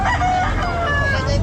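A bull stag gamefowl rooster crows at a busy pet market in Calumpit, a loud close call lasting the whole moment over background crowd murmur.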